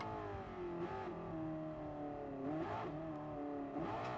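A Porsche race car engine in the racing game GT Sport drones steadily and rises and falls through repeated revs and gear changes. It plays loud and close throughout, with no talk over it.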